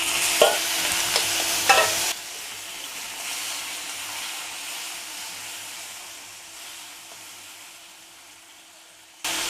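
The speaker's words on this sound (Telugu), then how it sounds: "ఇప్పుడు టమాటాలు మగ్గబెట్టుకోవాలి కొంచెం ఆయిల్ అండి" Tomatoes frying in oil in a pan on the stove for a dried red chilli and urad dal chutney, a steady close sizzle with brief stirring clatter at the start, heard alone without talk.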